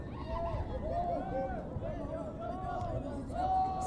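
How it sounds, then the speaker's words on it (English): Excited crowd at a high school boys and girls soccer match between Jenks Trojans and Union Redhawks, a steady hubbub of cheering and chatter with rising whistles and shouts, swelling louder near the end. "Sounds like the crowd is quite excited right now."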